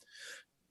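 A single sneeze bursts out during an online arts committee meeting, a short sharp nasal blast lasting under half a second, fairly close, followed by quiet room tone.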